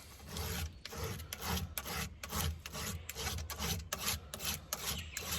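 A file is worked over the chain of a McCulloch 7-10A chainsaw in steady back-and-forth strokes, a close, gritty metallic rasp repeating roughly twice per second, with no talk.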